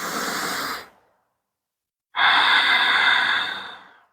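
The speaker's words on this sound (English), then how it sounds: "Take one more cycle of breath in child's pose." Deep breathing in yoga child's pose: a loud, close, airy exhale trails off into about a second of silence, then a long, strong inhale rushes in and fades.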